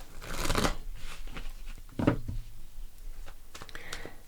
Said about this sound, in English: One more shuffle, I think.